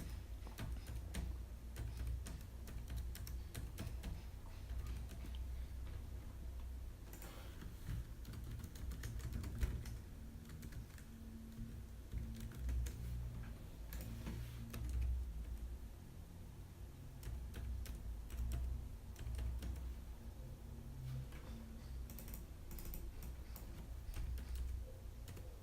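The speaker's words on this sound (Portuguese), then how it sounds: "É basicamente digitar o valor que você deseja, ou se não o texto, a data, o tempo na célula que você quer, e basicamente apertar o Enter" Soft, quiet key clicks come from a computer keyboard as values are entered into spreadsheet cells, tapping in irregular bursts over a faint background hum with no voices.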